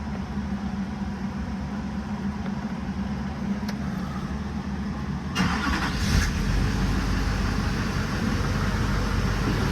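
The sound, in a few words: car engine starting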